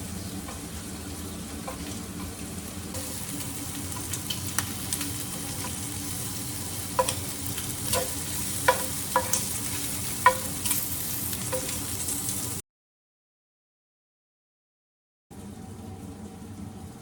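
Food frying steadily in a pan for spaghetti, with a constant sizzle and scattered sharp clicks and taps from tongs turning the pieces, then a brief gap of silence before the sizzle resumes.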